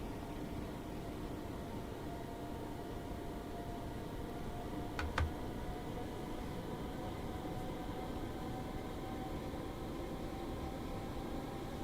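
A train running on the East Coastway line in Train Sim World 2, a steady low rumble of rolling wheels and motor hum with a brief high squeal partway through.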